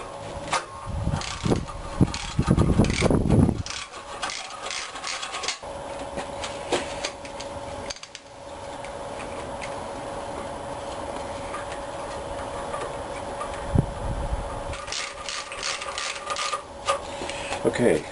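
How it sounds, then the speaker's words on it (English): A torque wrench ratchets on bolts of a Chevy engine during assembly, with clicking bursts at the start and again near the end, separated by a steadier low hum. "now we just have to torque them to 20"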